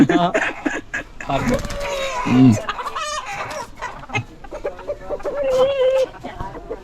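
A fluffy European breed chicken on a poultry farm clucks loudly and repeatedly up close, with a few sharper squawks, while someone talks over it.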